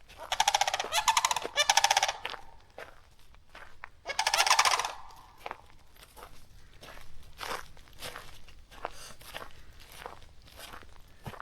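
Wild birds call near a campsite in Florida's Ocala National Forest: loud, close bursts of harsh, rattling calls, with quieter scattered calls and rustling or footstep-like sounds between them.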